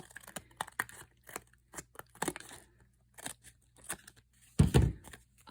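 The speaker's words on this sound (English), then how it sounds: "So you're going to flip it over and trim it." Scrap paper is trimmed by hand for a scrappy scrapbook card, giving a run of short, crisp snips and crinkles at close range, ending in a louder rustle of handled paper.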